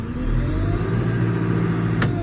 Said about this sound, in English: if I pick the revs up to say, you know, just over 1600 revs